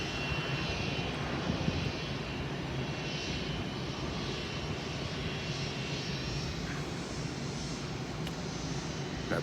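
A fixed-wing airplane's engine drones continuously at an airport, heard from a terminal bar, steady and fairly distant with a broad roar and no talk.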